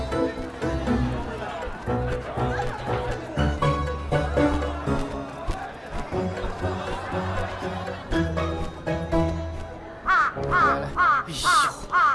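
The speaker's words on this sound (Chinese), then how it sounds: "大白天的乌鸦叫，晦气！" A crow caws again and again in harsh, rhythmic bursts, loudest near the end, while a drama scene plays with voices and background music.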